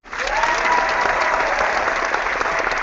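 Sustained crowd applause, loud and steady throughout, a dense wash of many hands clapping at once, as if from a live studio audience during a board game Q&A.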